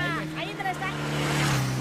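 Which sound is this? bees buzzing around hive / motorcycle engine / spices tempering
motorcycle engine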